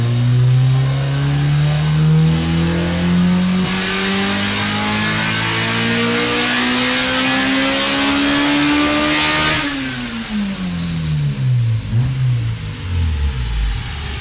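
A street Honda B16 engine screams through a dyno pull, the note climbing steadily and loudly for about ten seconds before dropping off as the revs fall away.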